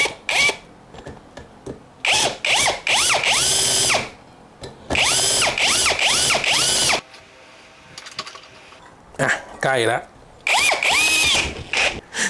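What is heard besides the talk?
power drill drilling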